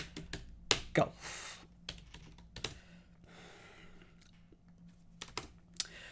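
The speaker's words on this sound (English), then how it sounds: "If you've got it, I'm going to slowly type it out." Answer typed slowly on a computer keyboard during a cryptic crossword solve: scattered close key clicks in irregular bursts with pauses between, moderately quiet.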